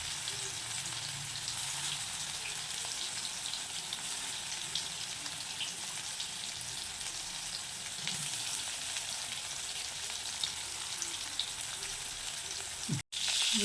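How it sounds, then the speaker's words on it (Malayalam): Fish frying in coconut oil with mustard seeds gives a steady, dense sizzle with fine crackle throughout, one sharp dropout near the end, no voices. "കടുക് പൊട്ടിക്കഴിഞ്ഞിട്ട് മീനിടും"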